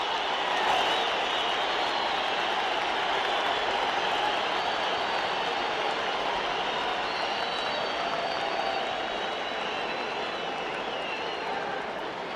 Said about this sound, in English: listen to this crowd at Madison Square Garden in New York